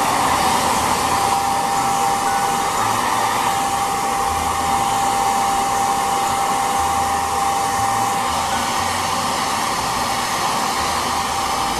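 A hair dryer blows in one continuous, loud, steady roar close by while permed hair is dried, with no voices over it.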